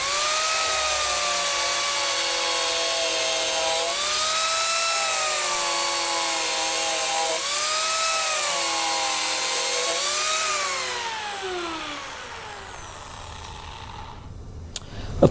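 A Mini Turbo power carving tool cutting wood freehand gives a loud, high, steady whine. Its pitch sags repeatedly as the cutter bites, then it winds down and falls silent near the end.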